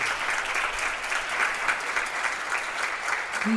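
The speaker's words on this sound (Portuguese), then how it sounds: "Forte aplauso para a nossa irmã" Strong, continuous applause from a church congregation for a sister at a Bible study, an even wash of many hands clapping throughout, with a faint voice just at the close.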